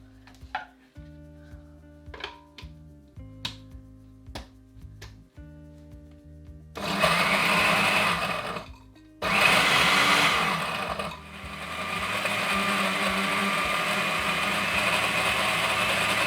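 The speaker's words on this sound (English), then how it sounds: "Now we're gonna put the Oreos in the blender." A kitchen blender whirs loudly as it blends Oreo cookies for an Oreo cake, running in two long bursts with a short pause, after some light clinks and taps of preparation.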